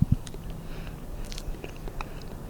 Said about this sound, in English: He's chewing.